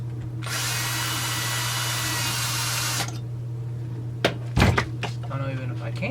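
A power tool whirs steadily for a few seconds while the clamp is removed from a Husqvarna 372XP chainsaw, then stops, followed by a couple of clunks and handling noises.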